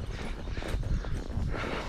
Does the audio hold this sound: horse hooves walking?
yes